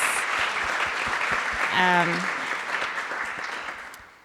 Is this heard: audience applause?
yes